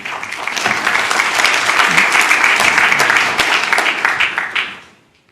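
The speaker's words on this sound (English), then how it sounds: "Please refrain from applause" An audience at a planning commission hearing breaks into applause that quickly swells into a full clatter of clapping, holds for several seconds, then fades away near the end.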